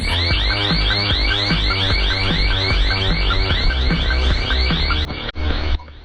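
A loud alarm rings continuously inside an abandoned building, a steady, rapidly pulsing electronic tone that stays constant for several seconds before cutting off abruptly near the end.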